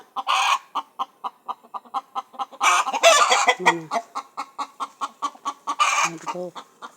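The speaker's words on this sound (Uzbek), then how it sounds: "bir xo'roz, 6 tovuq bor." Hens and a rooster in a coop cluck in a steady run of short, close calls, with a few louder, longer squawks and bursts of flapping noise breaking in.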